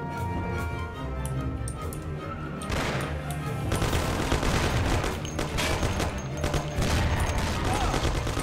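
Rapid gunfire from a fight in the video game Mafia, with dense overlapping shots and bursts running continuously and loud throughout, growing heavier partway through.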